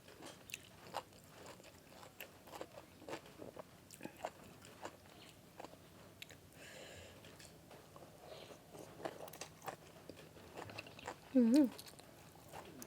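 Boiled field snails are chewed up close, with repeated crunchy bites and wet mastication in an irregular rhythm, plus a short louder crunch near the end.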